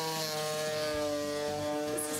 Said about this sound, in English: I am going to want to sand the whole thing.